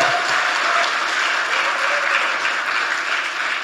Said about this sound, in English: Let's give a big applause for all of them.